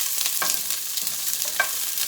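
Onions sizzle steadily in hot oil for a corn tortilla filling, a continuous close frying hiss broken by a few soft stirring scrapes, with no talking.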